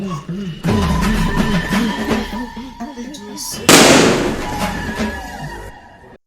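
A loud, crackling firecracker burst erupts partway through, close and harsh, over continuous voices and background noise, during Diwali celebrations.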